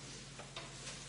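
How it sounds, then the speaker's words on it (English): Red onions sautéing in a pan, a soft, steady sizzle with a few faint scrapes of stirring, close and quiet with no voices. "I'm just like sauteing these red onions and caramelizing them a little bit"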